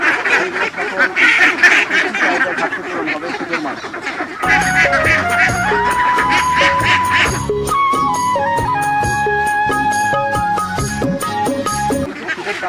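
Ducks on a farm in winter quack and honk as a busy, overlapping flock for the first few seconds, then music plays over the birds for the rest of the clip.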